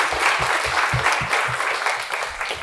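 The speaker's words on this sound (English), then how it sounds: "Can we give them a round of applause?" Audience applause for panelists after a museum discussion event, brisk, close clapping from a modest crowd with audible individual claps throughout.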